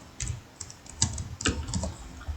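Keys on a computer keyboard are tapped in short irregular bursts, crisp and close, with a few separated clicks and brief pauses between them, without speech.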